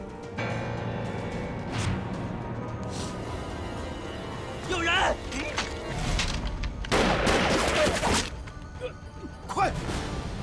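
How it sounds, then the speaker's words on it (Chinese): Gunfire erupts in a kung fu prison-break action film, with bursts of shots and impacts mixed among scored music and voices speaking, the loudest volley coming near the end. "外面有枪声"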